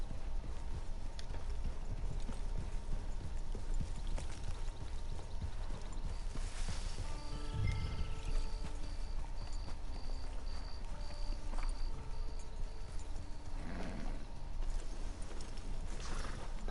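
Horse hooves clip-clopping in Red Dead Redemption 2, a steady rhythmic walk over a constant low ambient bed, with brief tonal game sounds in the middle and no talking.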